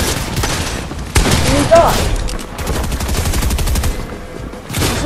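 Rapid video game gunfire rattles in dense bursts of overlapping shots, loud and close, while a player talks over the shooting.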